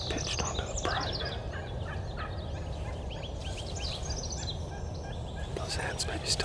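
A wild turkey gobbles repeatedly out in the spring woods, the rattling gobbles coming in clustered bursts at moderate distance, overlapping one another against a steady outdoor background.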